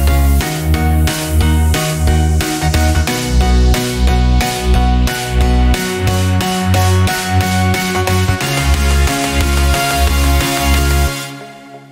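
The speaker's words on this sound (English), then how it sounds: "Creating tension with this snare drum." A synthesized electronic track plays with a steady thumping beat and sustained pad chords while a snare-style hit repeats and builds in density before the sound cuts off and fades.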